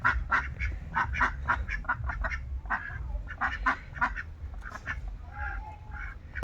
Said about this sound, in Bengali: এই হাঁসটা একদম হৃষ্টপুষ্ট,